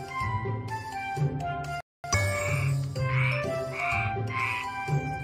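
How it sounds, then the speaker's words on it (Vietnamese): Cartoon frog croaking in a children's animated show about tadpoles, repeated rhythmic croaks over a bright tinkling musical backing, with a brief silent gap near the start and no talking. "Ếch kêu mà không cần mở miệng."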